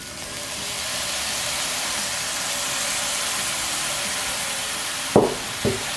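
Steady loud hiss of hot oil with garlic, leek and chili as soy sauce goes in, a continuous sizzle throughout, ending with two sharp knocks of a utensil against the pan.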